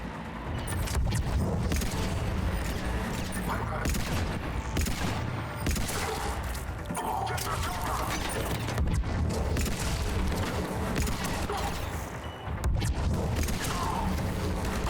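Rapid bursts of gunfire from the shooter game Mass Effect 3, played on Insanity difficulty, crackle almost nonstop with booms and mechanical clatter layered over a dense, loud combat soundtrack.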